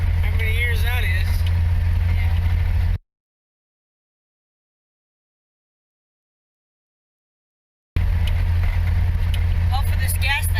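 A 1949 Chrysler car drives on the highway after sitting for more than 60 years, giving a steady low engine and road rumble under people talking, cut by several seconds of dead silence in the middle.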